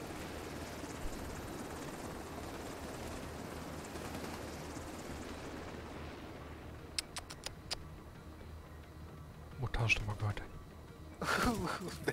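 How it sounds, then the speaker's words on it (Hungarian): A helicopter from a video game flies with a steady, droning rotor wash that fills most of the clip, followed by sharp ticking clicks and brief bursts of other game sounds near the end. "helikopter."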